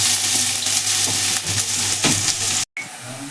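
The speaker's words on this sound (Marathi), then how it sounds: "आता त्याच्यामध्ये आपण तेल टाकून घेऊ. त्याच्यानंतर कांदा टाकू." Onion fries in hot oil in a heated kadhai, giving a loud, continuous close sizzle with stirring scrapes, cut by a brief silent gap near the end before the frying resumes.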